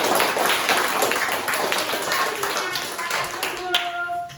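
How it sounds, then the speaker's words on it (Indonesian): A class of students clapping hands together in a classroom for a group's poster presentation, a dense steady burst of claps with some voices mixed in, fading slightly toward the end. "Kasih tepuk tangan yang paling besar."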